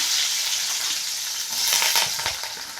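Onions frying in hot oil with mustard seeds and cumin make a loud, close, hissing sizzle, with a few brief crackles and stirring scrapes toward the end. No voices.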